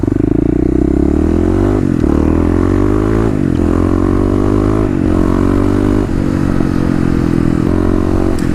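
Kawasaki KLX351 motorcycle with new handlebars being ridden, its engine loud and steady throughout with repeated rising revs and gear shifts, close to the microphone with no talking.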